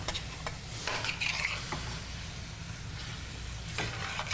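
Lomo saltado sauce begins cooking in a hot pan, giving a steady sizzle with occasional stirring scrapes and light clicks of a utensil, close and continuous.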